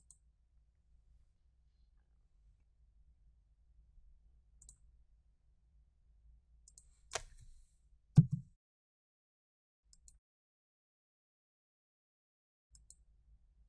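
A computer mouse clicks in an otherwise silent room: a handful of sparse, faint single clicks with one louder, sharper click cluster in the middle.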